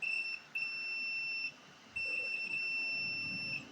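A multimeter's continuity buzzer sounds in two long, continuous, high-pitched beeps separated by a short pause, clear against a quiet background.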